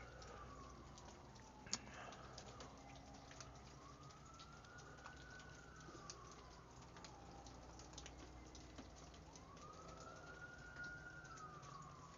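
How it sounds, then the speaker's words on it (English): A police patrol vehicle's siren wails faintly in the distance on a rainy night, slow rising and falling sweeps repeating over a constant wash of background noise, with one brief tap near the start. "I don't know if you can hear the sirens."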